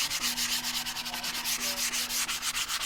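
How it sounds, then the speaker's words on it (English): Sandpaper rubbed over the back of a cigar box guitar in quick, steady back-and-forth strokes, close and fairly loud, with no voices. "Just come and sand the back of it a little bit."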